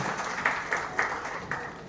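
An audience at a Gujarati standup comedy show for the Jain community gives faint applause, with a few sharper claps standing out from a soft, steady patter of clapping in the room.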